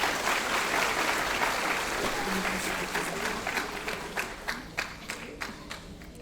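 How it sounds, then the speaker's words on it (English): A graduation ceremony audience applauds a teacher, Mr. D, a broad wash of clapping that thins out toward the end into a few distinct, fading claps. "Let's give Mr. D another round of applause"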